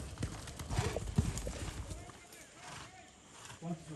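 Horse hooves clip-clopping on the ground during vaquejada training at a rodeo park, a few irregular thuds close by with voices talking over them.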